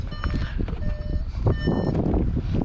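Steady repeating electronic beeps from a Volkswagen T-Roc's parking sensor while parking, heard close inside the cabin over a low engine rumble and road noise.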